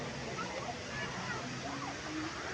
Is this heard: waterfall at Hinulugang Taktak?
yes